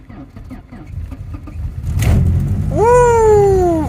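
A BMW E30 with a drained battery cranks in a slow, labored rhythmic churn, then fires and catches, settling into a rising, steady idle up close. A voice speaks briefly over the cranking.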